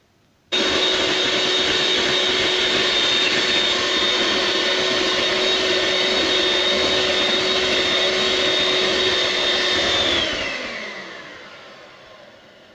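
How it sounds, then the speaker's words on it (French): Electric whisk beating meringue for a Christmas log decoration, a loud, steady whirring motor drone with a high whine, running continuously for about ten seconds before spinning down and fading out. "Mais on va fouetter encore un petit peu pour vraiment que les traces soient franches."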